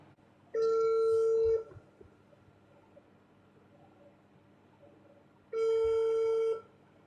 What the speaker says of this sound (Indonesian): Saya berusaha mau telepon Teh Novi nih.